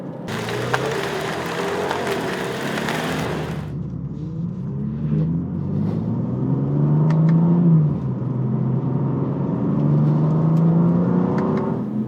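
A 2026 BMW M2 CS engine roars at high revs on a proving-ground track, then drops to a lower rising drone as it accelerates and shifts, loud and continuous throughout.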